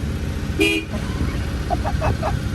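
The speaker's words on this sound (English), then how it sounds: "That's a nice horn, actually." A 1971 Honda 1300 Coupe 9S, starting up after seven years, gives a short, nasal horn toot, close and loud, followed by a few quieter mechanical clicks.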